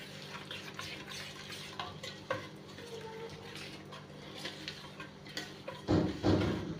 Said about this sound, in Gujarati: આ બધાને હલાવીને સારી રીતે મિક્સ કરી લઈશું